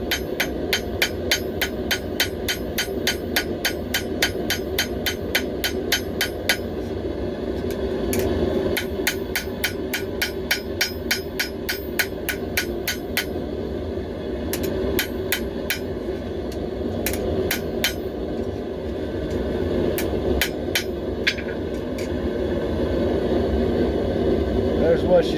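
Steel knife tip hammered on an anvil while forging, sharp metallic strikes landing in rapid regular bursts with brief pauses between runs, over a steady background hum and talk.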